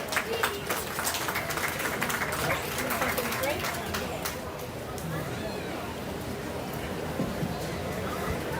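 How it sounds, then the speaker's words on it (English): A crowd applauds at a county fair junior livestock sale, with scattered clapping that swells early and fades into murmuring chatter and a voice over the noise. "Give him a round of applause."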